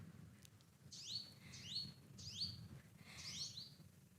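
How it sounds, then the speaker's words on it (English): A tiny bird among flowers gives four short, bright chirping phrases in quick succession, faint and fairly distant over a low background hum. "This tiny little bird in flower, they help in pollination."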